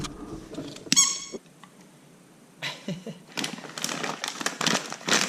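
A sharp squeak from a rubber dog toy rings out once, followed by crinkling and rustling of packaging and small scattered clatters.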